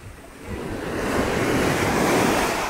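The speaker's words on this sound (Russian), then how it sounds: "Хорошие волны, да?" Stormy sea waves surge and crash on the Black Sea shore at Kabardinka during a storm warning, a broad roaring wash that swells louder over a few seconds, mixed with wind noise on the microphone, with no voices.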